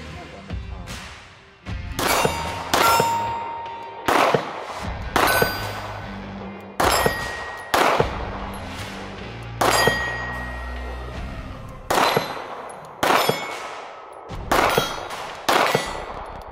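A compact Taurus G2C 9mm pistol fires outdoors in cold weather at a steel plate target. About a dozen sharp, loud reports come at uneven intervals, each followed by a ringing metallic clang.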